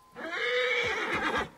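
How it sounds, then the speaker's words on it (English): A horse in the video game Assassin's Creed Origins gives a single loud, close neigh lasting over a second, alone without talk. "Horse is stuck. still majestic."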